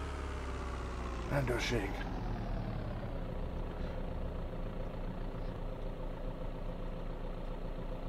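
A vehicle engine idles in a video game, a steady low rumble throughout, with a voice calling out briefly over it early on.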